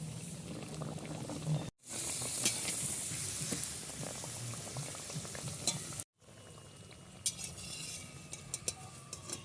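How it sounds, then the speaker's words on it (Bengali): Steady, busy sizzle of spinach puri frying in hot oil, close up, with faint scraping. Two brief cuts of silence interrupt it. "একটা পালং পুরি ভাজা হয়ে গেছে খুব সুন্দর করে ভেজে নিলাম"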